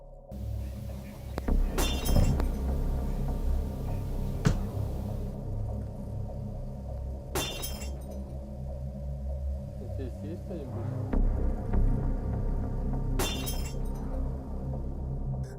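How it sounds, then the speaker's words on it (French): Several sharp bright crashes like breaking glass cut through a steady low background rumble, spaced several seconds apart. "Un verre se casse."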